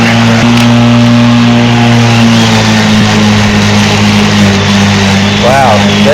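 Black & Decker cordless battery electric lawn mower cutting tall grass, a loud, steady close motor hum with a constant tonal whine, dipping slightly under load, with someone talking over it.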